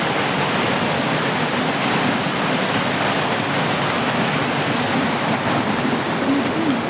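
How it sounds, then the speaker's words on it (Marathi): A stream running hard at night roars as a loud, unbroken rush of water, close and steady from start to finish, with no clear voices over it. "बघा थोडं पाणी बघा, पाण्याचा फोर्स बघा किती आहे."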